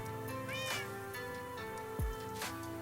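Cat meowing in the Minecraft video game, several clear close meows spaced across a few seconds over soft background game sounds.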